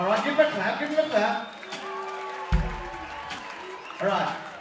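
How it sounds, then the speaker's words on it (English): An audience claps briefly at a lively comedy show, with scattered applause mixed in among talking, singing voices and crowd noise, and the clapping rises and fades unevenly. "give him a clap"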